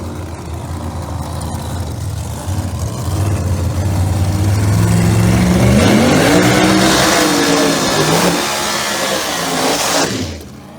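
A loud Pro Mod drag racing car roars past during qualifying at Cecil County Dragway, its engine note rising and shifting in pitch as it passes, then fading away.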